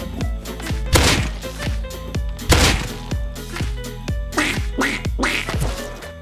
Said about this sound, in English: Definitely Donald Duck